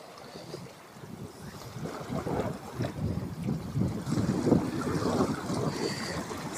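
Gusty wind roars across open water near a small boat during a fishing outing, a close, rumbling buffet on the microphone that swells and eases, with the wash of water beneath.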